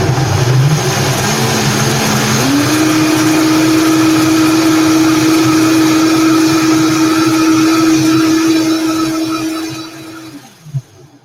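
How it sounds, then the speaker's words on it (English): A Vitamix blender starts on low and ramps up, its motor rising in pitch to a loud steady whir that holds for several seconds before winding down and cutting off near the end. No one talks. "I always start it on low on the Vitamix. Gradually build it up."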